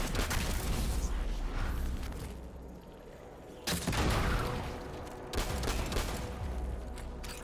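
Rapid gunfire in Destiny 2 triggers volatile detonations, dense crackling bursts with sharp booming blasts at intervals, loud and close, fading briefly before renewed explosions.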